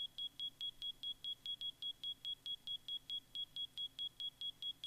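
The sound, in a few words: smoke detector alarm beeping in Minecraft (video game)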